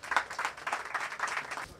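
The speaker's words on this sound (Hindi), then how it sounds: "तालियां" Audience clapping at an annual award night and mushaira poetry gathering, a brief burst of rapid, fairly close handclaps with an uneven rhythm that stops abruptly.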